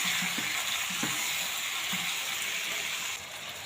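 Chicken gizzards frying in a pan give off a steady, close sizzle and hiss that runs the whole time, with a few soft stirring knocks and a slight drop in level near the end.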